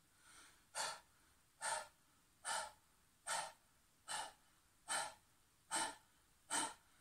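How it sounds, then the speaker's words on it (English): Dog-like panting done as a Kundalini yoga breathing exercise, eight sharp, evenly spaced breath bursts a little under a second apart, close to the microphone and quiet, with nothing else heard. "I'll start panting like a dog."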